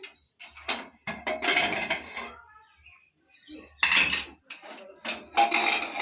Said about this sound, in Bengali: 30 মিনিট হয়ে গেল, এবার ঢাকনাটা খুলে দেখি